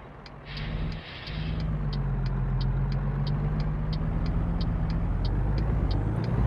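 Scot A2HD vintage 10-ton truck in American Truck Simulator, its slow-revving engine droning steadily and loud, a low hum building gradually, with a brief air-brake hiss near the start and regular ticking clicks throughout.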